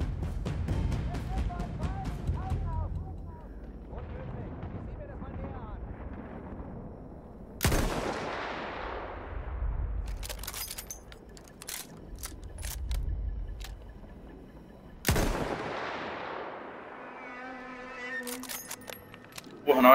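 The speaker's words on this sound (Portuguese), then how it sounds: "o cara entrou numa metralhadora" Battlefield 1 machine gun fire: heavy booming reports hit three times, about seven seconds apart, with mechanical clicking and rattling between them and a voice talking underneath.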